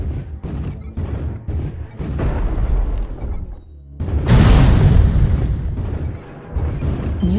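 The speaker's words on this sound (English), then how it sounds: "Artillery strike online." Artillery strike explosions in a video game, a series of heavy booms and crashing blasts building into one loud, sustained eruption with rumbling debris, close and dominant.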